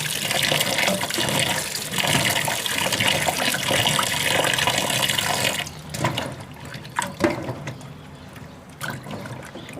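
Cut potatoes for French fries being washed in water, a loud, steady splashing and sloshing that ends after about six seconds, followed by quieter drips, knocks and handling sounds.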